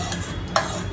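Finely chopped garlic and tomato tipped into a bowl for bruschetta, a short stirring scrape with one brief louder clink of utensil near the middle, close and fairly quiet.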